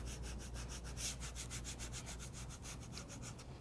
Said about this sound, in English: using your scraper tool, press the transfer tape over your decals